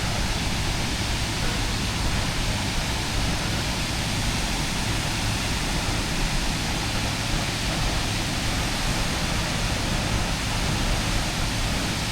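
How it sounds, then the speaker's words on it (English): A waterfall roars as a dense, constant broadband rush, loud and unbroken throughout with no variation in level and no voices over it. "brings us back round on this waterfall again"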